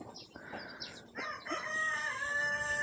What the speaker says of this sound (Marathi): आपल्याकडे आखाड्यावरती कोंबड्या पण आहेत मित्रांनो, गावरान कोंबड्यात. त्यांचा पण धिंगाणा चालू आहे इकडे.